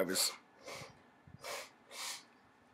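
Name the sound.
nose blowing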